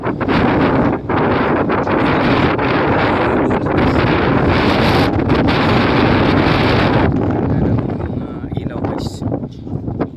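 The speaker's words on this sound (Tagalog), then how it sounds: "Malakas ng hangin guys" Strong wind buffets the microphone in loud, continuous gusts, easing slightly near the end, with a voice speaking underneath.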